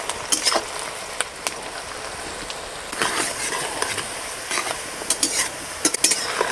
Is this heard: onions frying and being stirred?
yes